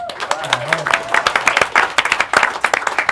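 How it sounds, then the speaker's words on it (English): A small audience claps for an athletics group introduced on a live show, with crisp, close hand claps at a brisk pace while a voice talks over them. "Give them a round of applause, please."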